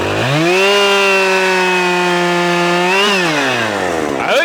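A Husqvarna chainsaw screams at high revs, holding a steady whine before dropping briefly and climbing back up, then easing off near the end, close and loud with no talking.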